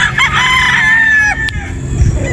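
A Boston Roundhead broodstag rooster with a straight comb crows once, close and loud, in a single drawn-out call that trails off.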